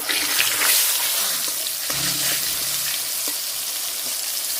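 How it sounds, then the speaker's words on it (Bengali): Steamed egg pieces being lightly fried in oil with turmeric and salt, sizzling loudly and steadily up close, with a few soft stirring knocks partway through. "ভাপা ডিম দিয়ে দিম একটু হালকা করে ভাজা নিম"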